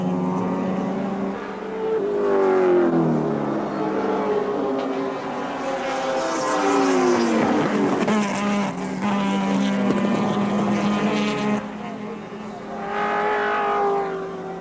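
Group C touring cars race at Wanneroo Raceway in a 1984 touring car championship round, with engines roaring loudly and rising and falling in pitch as cars pass close by, backed by wind noise.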